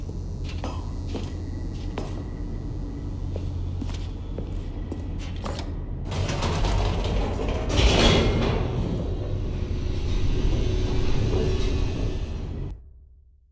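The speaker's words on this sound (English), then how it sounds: "The elevator raced downward, plummeting towards an unknown fate." An elevator descending in The Stanley Parable Ultra Deluxe video game rumbles low with faint mechanical clicks, then swells into a louder rushing whoosh midway before cutting off abruptly at the end.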